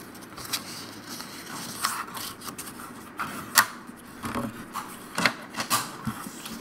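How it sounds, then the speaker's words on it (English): A score tool is drawn along a small piece of cardstock, making faint, irregular scraping and rubbing strokes with light taps, close and quiet with no talking. "we're going to score it 1/2 inch"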